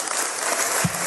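Audience applause at an Oakland city council meeting on a cannabis ordinance, a short dense burst of clapping from a crowd in a hall.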